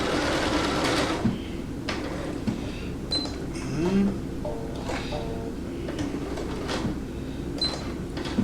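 A home sewing machine stitches a quilt in a steady mechanical whirr with small clicks and knocks throughout, close and fairly loud, with no talking.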